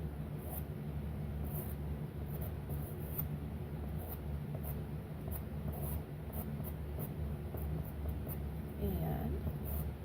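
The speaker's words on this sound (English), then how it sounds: "With a little bit of pastel pencil, I could add a little more depth to that." A pastel pencil scratches and rubs across paper in continuous soft strokes, close and fairly quiet over a steady background hum.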